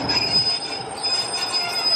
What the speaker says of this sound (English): Anyway, the train's here.